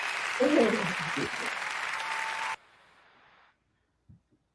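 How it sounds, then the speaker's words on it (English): A crowd at a talk-show taping applauds steadily, with a voice calling out over the clapping. The applause cuts off abruptly, leaving near silence and a couple of faint knocks. "The audience is clapping."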